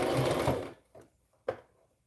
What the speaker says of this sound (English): Start sewing. Then I'm making sure to back stitch.